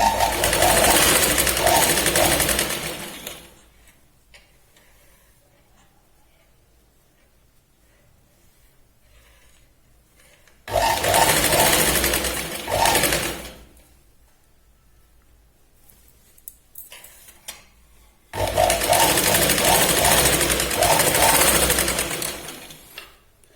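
A sewing machine runs in three long, loud bursts of steady stitching along a katori blouse lining on green fabric, with quiet pauses between the runs.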